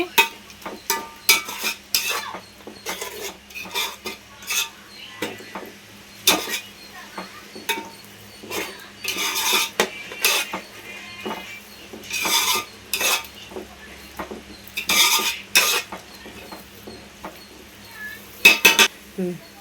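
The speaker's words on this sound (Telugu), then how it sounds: "ఇప్పుడు మనం పచ్చివాసన పోయేదాకా ఒక 2 నిమిషాలు వేపుకుంటే సరిపోద్ది." Ground shrimp-and-spice paste frying in a pan with a steady sizzle, while a metal spoon stirs and scrapes against the pan in frequent, uneven clinks and bursts. There is no talking.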